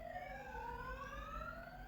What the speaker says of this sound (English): As the sirens go past in the background.